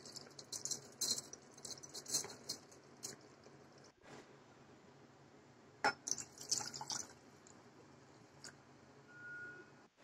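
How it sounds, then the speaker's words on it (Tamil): Two glasses of water pour into rice for tomato rice, a soft, quiet trickle and splash with a few faint clinks and drips, no talk. "ரெண்டு கிளாஸ் தண்ணி விடுறோம்."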